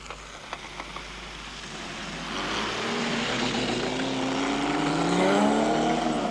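Rally vehicles, among them a Toyota Hilux, race past on a 1988 Baberspan 500 desert course, engine roar building from a distant drone into a loud, close pass with rising and falling pitch.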